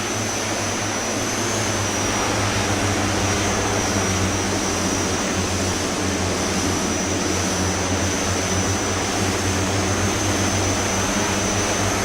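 A propeller aircraft engine idles steadily during taxi in a flight simulator game set on a route from Alaska to Northern California, a constant droning hum with no gaps and no voices.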